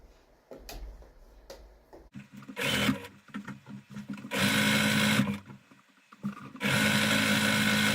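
A sewing machine stitches a pillow for a couch makeover in bursts, starting with a few short clicks and brief runs, then two long, loud, steady whirring runs separated by a pause.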